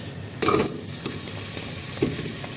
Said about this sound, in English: We're going to cook the spring onion in there.